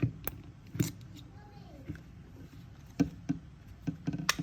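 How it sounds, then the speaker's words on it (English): Hoses seating into the nozzles of a Ricoh RI2000 printer head give several sharp, short plastic clicks at irregular intervals, fairly quiet against faint handling noise. "Now you're gonna hear a click on both sides."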